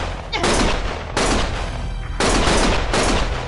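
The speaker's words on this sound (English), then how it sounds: "Stop shooting!" Gunfire in the Lost Judgment video game comes as four loud, broadband bursts of rapid shooting, each lasting around a second, separated by brief gaps and close to the listener.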